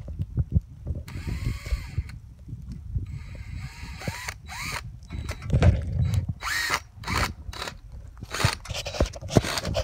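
Power drill driving two screws into wood while a bait hive for bees is mounted outdoors; whirring bursts start and stop in an uneven rhythm over rustling and scraping handling noise, close and fairly loud.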